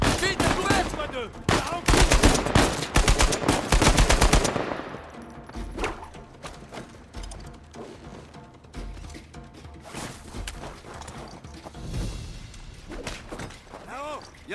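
Rapid gunfire bursts and impacts in the video game Uncharted 4, a sniper firing from above as shooting erupts loud and dense at first, then continues as scattered shots and thuds under game sound and a voice.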